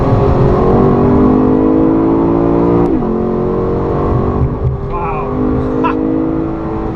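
A Lexus LC 500 cruises along a road, its engine a loud, steady hum close up, with a brief shift in pitch partway through and a faint higher whine near the end.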